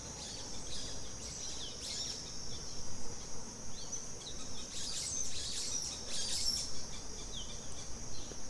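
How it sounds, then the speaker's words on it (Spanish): Birds and insects call together in a humid, cool Veracruz cloud forest, a steady high chirping and buzzing chorus with denser bursts of calls partway through, no voices. "podemos escuchar y ver aves de distintos cantos y colores"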